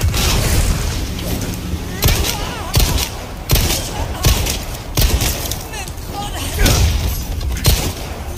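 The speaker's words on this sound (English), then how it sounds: "Hand grenade?" Hand grenade blast in the Resident Evil 4 remake, deep booming thuds and bursts over rumbling game combat noise, loud and repeated, with a player talking over it.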